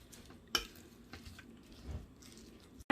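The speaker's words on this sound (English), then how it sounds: "I'm going to mix everything in." Roasted vegetables and kale get tossed together in a salad bowl, a few clinks of a utensil against the bowl and soft squishy stirring, fairly quiet and close.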